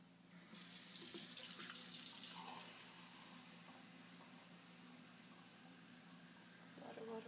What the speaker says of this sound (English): Water, water, water, filling it with water.